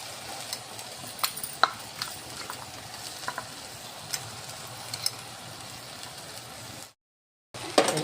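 Ground roasted, skinned peanuts are stirred into a cooked fenugreek leaf curry in a pan, giving soft, steady scraping with light sizzling and a few sharper clicks, broken by a short silence near the end.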